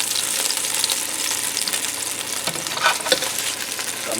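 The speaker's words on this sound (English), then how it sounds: "I'm just going to brown it quick in the pan on the bottom because we're going to make the gravy." Meatloaf browns in a pan with its drippings, a close, steady sizzle and crackle with a few brief stirring scrapes, no talking.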